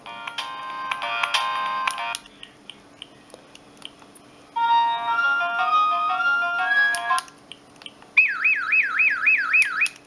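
A Siemens C65 mobile phone plays a melody as a beeping monophonic ringtone, loud and close, in separate bursts of tones with pauses between, followed by a warbling alert-like pattern; no talking.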